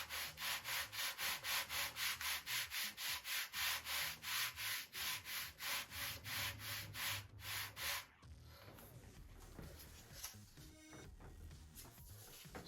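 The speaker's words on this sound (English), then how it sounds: "So I'm going to give this a light sanding," Steady back-and-forth rasping of sandpaper on a wooden model airplane fuselage, about twenty even strokes close by, then quieter scattered scraping and handling.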